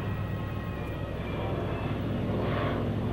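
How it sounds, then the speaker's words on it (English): Goodyear-built FG-1 Corsair WWII fighter plane droning steadily at a distance, a broad low engine rumble with no clear change in pitch. "So this is the FG-1 Goodyear-built Corsair airplane."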